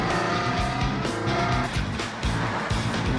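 A Ferrari or Lamborghini sports car drives hard with a loud, close engine roar that rises and falls through gear changes, with brief tire squeal.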